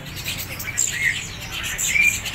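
A caged Asian pied starling sings at a bird market, giving bright, clear whistles and chirps in short bursts over a noisy background of other chattering birds.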